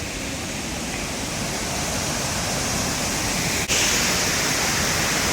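Shifen Waterfall in Taiwan, a constant broad roar of falling water that fills the whole stretch evenly, loud and steady with no voices.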